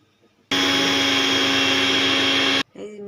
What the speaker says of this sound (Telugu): ఈ మిక్సీ పట్టాలి.